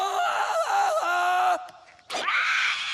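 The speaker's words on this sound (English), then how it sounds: "A clear jungle yell tells everyone you're ready to swing." Cartoon jungle yell from George of the Jungle, a loud warbling cry with a wavering pitch, dropping out briefly and then returning in a second strained burst.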